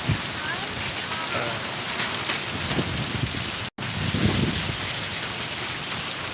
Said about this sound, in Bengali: প্রচুর ঝড় বৃষ্টি হচ্ছে।